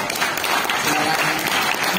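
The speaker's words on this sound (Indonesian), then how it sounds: "Tepuk tangan dulu buat Pak Sori." Audience applause at a company employee farewell event, a steady dense wash of many hands clapping throughout, close and fairly loud with no clear voices on top.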